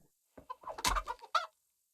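A chicken in the video game Kingdom Come: Deliverance gives a short flurry of quick, close clucks lasting about a second, then falls silent.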